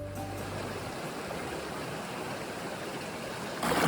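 A small, shallow stream, mostly well below knee depth, flows in a steady, broadband wash that stays even and close throughout, alone with no voices.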